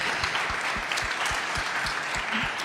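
A crowd applauds steadily after an all-female Blue Origin crew's space flight, a dense wash of clapping with a regular low thumping beat running underneath throughout.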